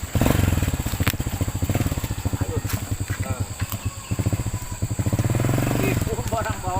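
A motorcycle engine starts and settles into a steady, throbbing idle that runs close and loud throughout, with people talking over it during a Sundanese stage comedy.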